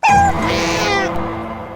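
A single cat gives one drawn-out, fairly loud meow close by that tapers off at the end, with no one talking.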